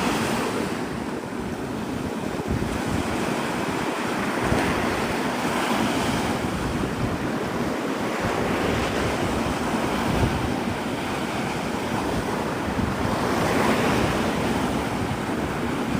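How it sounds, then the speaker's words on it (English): Rough sea waves crash on the shore in a sustained roar, with surges swelling and easing every few seconds under wind buffeting the microphone. "I could hear the waves from the parking lot because I was on the side of the sound, and I was like, it has to be rough seas"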